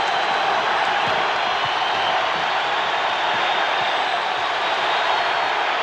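Dense, steady roar of a large crowd cheering inside a basketball arena during the 1990 NBA Finals, Detroit Pistons against Portland Trail Blazers, a continuous loud wash of voices with no breaks for the full stretch.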